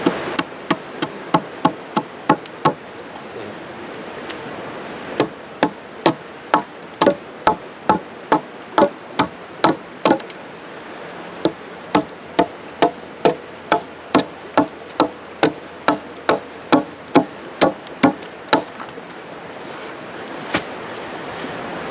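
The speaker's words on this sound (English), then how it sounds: "If you have to, you can always choke up on the axe too." Axe strikes chopping a notch into a log for a log cabin build, sharp woody thunks repeated in a steady rhythm with a few short pauses, close and loud against a quiet outdoor background.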